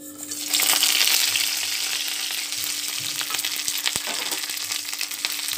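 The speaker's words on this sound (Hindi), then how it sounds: "तेल दे देमा इटा तपी गलान एखन लहसुन सुखा मर्ची पचफुटन मिर्सिंगा पतर के दे देमा" Garlic, dried red chilies, panch phoron and curry leaves frying in hot oil in a kadai for a western Odisha letha dish, giving a steady loud sizzle with crackling pops throughout.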